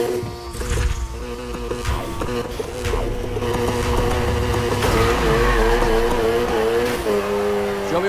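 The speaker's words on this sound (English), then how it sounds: "Slam on the gas to initiate, then steering and control is all up to you." Racing-game car engine from Need for Speed Heat revving hard under a music-like bed of sustained tones, loud and continuous throughout.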